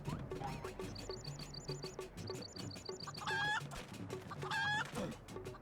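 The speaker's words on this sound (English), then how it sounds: "The rooster." A cartoonish rooster crows twice in Final Fantasy XIV, clucking and fowl calls repeating over game music with a patterned electronic melody, all loud and close with no speech.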